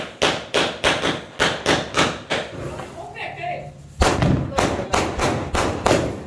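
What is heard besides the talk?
Diwali firecracker box (mithai ka dabba) being set off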